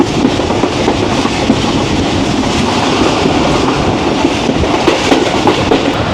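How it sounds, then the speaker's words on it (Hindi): The Jaffar Express rolls along the rails toward Jhelum station with brakes applied, producing a loud, dense rumble and steady clatter of wheels throughout, heard from inside the moving train. "दोस्तों ब्रेक अप्लाई हो चुकी हैं झेलम स्टेशन पर रुकने के लिए जाफर एक्सप्रेस की"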